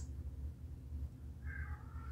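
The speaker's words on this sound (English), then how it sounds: "Sorry if you can hear my cat in the background." House cat meowing softly in the background of a quiet indoor room, one faint drawn-out meow over low ambient hum, with no talking.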